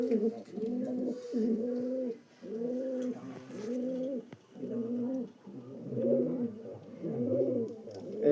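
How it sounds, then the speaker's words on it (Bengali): Madras pigeons coo in a steady series of low, rolling, bubbling phrases, about eight repeated calls close by, with light background noise between them. "ম্যাড্রাস পায়রা।"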